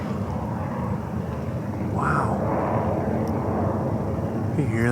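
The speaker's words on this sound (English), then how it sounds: "About every 2 minutes, a plane comes over here if they're heading out west." A plane passes overhead in extreme cold of -25°C, heard as a faint, distant broad roar that swells slightly midway, with a faint mechanical hum from a vehicle nearby.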